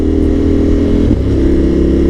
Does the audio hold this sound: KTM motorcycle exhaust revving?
yes